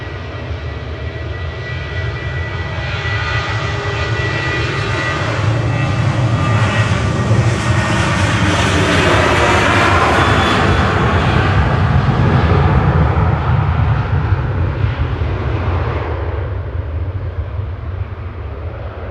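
A SunExpress jet airliner takes off at Manchester Airport bound for Dalaman, its engine roar building steadily to a loud, sustained peak and then easing slightly as it climbs away, with no voices.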